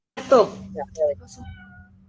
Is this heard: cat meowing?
yes